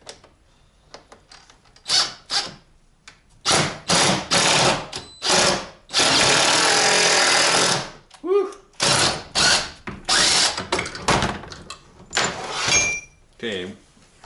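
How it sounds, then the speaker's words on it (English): Cordless impact wrench with a swivel socket working on a Buick Grand National, firing in repeated loud bursts of hammering, with short pauses between them and one long sustained run in the middle. "Of course, using an impact with a swivel socket."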